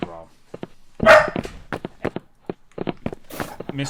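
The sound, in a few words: dog barking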